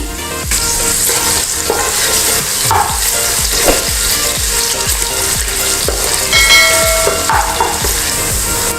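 Sliced onion fries with fennel seeds and spices in a pressure cooker, a loud close sizzle broken by rhythmic scraping strokes of a spoon stirring against the metal base, no speech.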